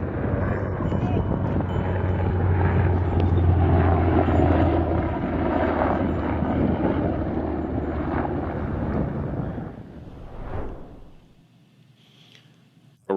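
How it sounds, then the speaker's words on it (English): American planes and helicopters fly over Iran, a loud sustained engine and rotor roar with wind buffeting that peaks early, then fades away toward the end. "many images have been released from Iran showing American planes and helicopters flying over Iran to rescue the pilots of this aircraft"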